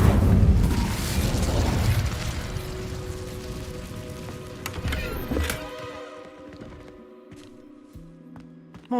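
Incendio fire spell in Hogwarts Legacy bursts with a loud rumbling whoosh and crackling roar, then fades into a sparser tail of flickering crackles and faint tonal game effects, with no talk.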